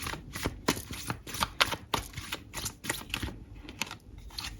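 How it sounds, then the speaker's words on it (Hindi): Tarot cards being shuffled and drawn during a reading, a run of close, crisp riffling flicks and soft slaps in irregular bursts, with no voices over them. "कुछ कार्ड्स और निकालते हैं।"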